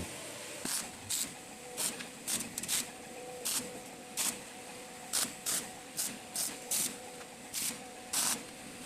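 Tack welding on a steel farm gate frame: a series of short, sharp crackling bursts, roughly a dozen over several seconds at an irregular rhythm, close and fairly loud over quiet shop background.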